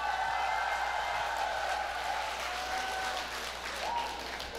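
Audience applause welcoming a trot singer at a singing class, continuous clapping over a steady background with faint tonal sounds, like feedback or music, running through it.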